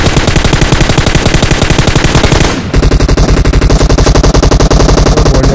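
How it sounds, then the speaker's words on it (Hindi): Loud, continuous automatic gunfire in PUBG, in rapid bursts, a brief pause, then another sustained volley of rapid shots, close and harsh. "यहाँ पे मुझे गोलियां चलने की आवाज आती हैं"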